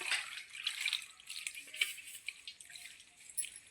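Water trickles and splashes into pakora batter in small uneven pours, close and fairly soft, with no voices present.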